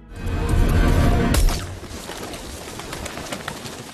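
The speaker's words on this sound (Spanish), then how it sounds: "Fingen estar dando de comer a los pájaros" Pigeons or other birds being fed outside a café coo and flutter at close range, with a dense rustle early on that drops to a thinner, busy outdoor texture.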